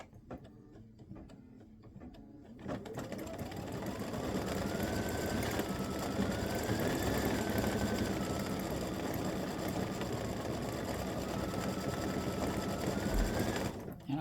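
An embroidery machine stitches a Halloween cowboy ghost patch, starting up after a quiet moment into a steady, loud mechanical whir with rapid needle chatter and shifting motor pitch that continues without pause.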